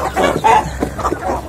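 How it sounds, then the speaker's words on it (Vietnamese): Free-range chickens cluck and squabble close by while pecking at papaya seeds, a busy run of short, loud clucks and calls. "cho gà ăn rất xịn sò"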